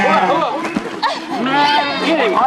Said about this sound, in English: they were all out there marking sheep